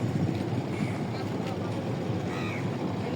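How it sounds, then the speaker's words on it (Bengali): A passenger launch on a river in Bangladesh, the kind running from Dhaka to Chandpur, gives a steady low engine rumble mixed with water wash and wind buffeting the microphone, continuous and fairly close. "ওই যে দেখেন লঞ্চ আসছে, ওই যে লঞ্চ দেখা যাচ্ছে এখান থেকে।"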